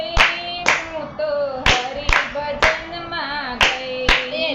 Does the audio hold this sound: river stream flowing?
no